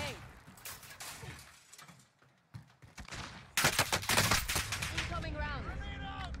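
Gunfire rings out in a first-person shooter match. Faint scattered shots come first, then dense rapid bursts break out loud and close for the last few seconds.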